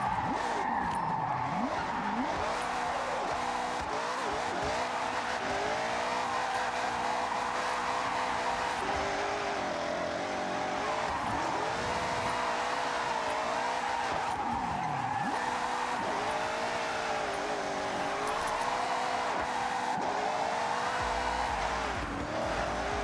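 Car drifting through long slides in Forza Horizon 6, a rear-wheel-drive build, with sustained tire skidding and squeal over a steady engine drone, loud and continuous throughout with rising and falling pitch sweeps as the car swings through corners.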